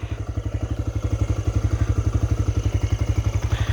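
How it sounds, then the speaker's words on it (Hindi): A TVS Raider 125 motorcycle idles steadily after starting, its single-cylinder engine putting out a close, even, rapid thump with a light mechanical clatter at night on a dark road. "अभी मैंने बाइक स्टार्ट किया है"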